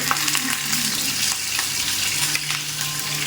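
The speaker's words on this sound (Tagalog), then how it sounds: "Ayan, magpiprito tayo ng ito, galunggong. So, mainit na yung mantika natin." Galunggong fish frying in hot oil, a loud continuous sizzle and crackle close to the pan with faint bubbling, no voices.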